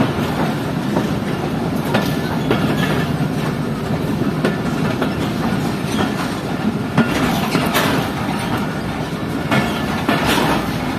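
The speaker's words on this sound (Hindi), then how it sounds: "अब ट्रेन पहुंच रही है अपने सेकंड स्टॉप पर, यानी कि शाहीन पैसेंजर अब पहुंच रही है अपने सेकंड स्टॉप पर।" The Shaheen Passenger train rolls into its second stop, a steady rumble of carriages with rhythmic clickety-clack of wheels over rail joints, heard from on board at close range and continuing without break.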